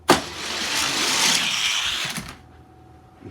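A Ferrari F40 with three-spoke gold wheels launches down the Red Pill Hill race track. A loud rolling whir builds sharply, holds for about two seconds, then cuts off into near silence.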